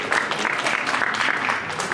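Vigorous crowd applause welcomes a village panchayat head at a Hindu religious gathering in Himachal Pradesh, thick and continuous for the whole moment.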